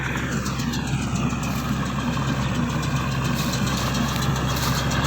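A steady, droning diesel engine of a Kubota L5018 tractor pulling an International hay baler runs close by with a low rumble and constant mechanical clatter, unbroken throughout, with no voices.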